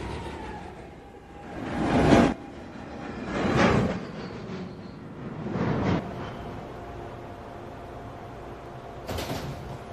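A NYC subway 1 train arrives at Fulton Street station, with repeated swelling rumbles and clattering bursts echoing through the platform, followed by a steady lower roar and a final brief burst.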